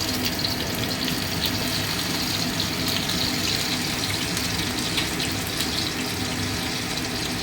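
Two spoonfuls of onion paste frying in hot white oil, a continuous dense hiss and sizzle holding steady and fairly loud throughout, with no voices.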